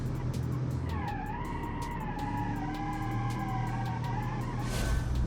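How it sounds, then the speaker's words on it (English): The V8 engine of a 1990 super sedan, running at 4.8 psi of boost, drives with a steady droning note and a wavering whine layered on top, holding an even, moderate level throughout. "And the V8 noise is just magnificent."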